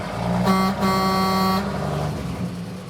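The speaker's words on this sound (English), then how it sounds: "It's got an air horn." Air horn on a big truck blasting in two loud, steady harmonic bursts, the first short and the second longer, followed by engine rumble and a fainter third toot.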